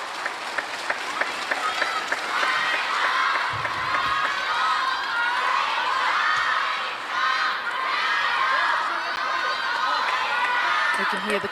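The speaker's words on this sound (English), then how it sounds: "can hear the crowd cheering the name of Sun Yingsha" Arena crowd at a table tennis world championship finals match in Doha, loud sustained cheering and shouting with scattered claps, filling the whole stretch at a steady high level.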